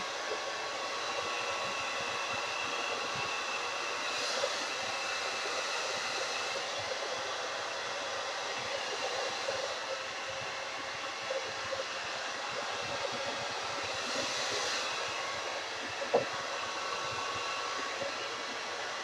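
A hair dryer on its warm setting blows over short, twisted natural curls as they are shaken dry. The airflow is a steady, continuous whoosh at moderate volume, with a few soft bumps and no talk.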